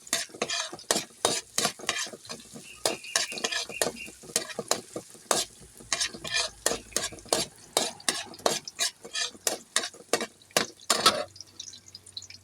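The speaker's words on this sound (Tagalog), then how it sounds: "Isa na tayo ng sibuyas bawang." Onion and garlic sauté in a pan for pansit bihon, a spatula scraping in quick rhythmic strokes over a steady background sizzle, close and distinct, with no talking.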